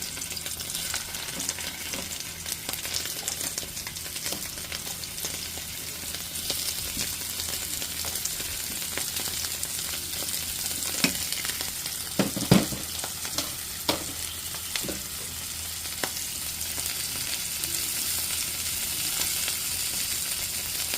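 Dried fish (bulad) frying in a pan for a Filipino meal, a steady crackling sizzle of hot oil throughout with scattered sharper pops and spatters, loudest bursts around the middle, no talking.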